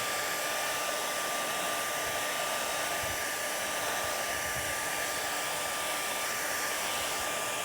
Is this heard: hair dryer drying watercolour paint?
yes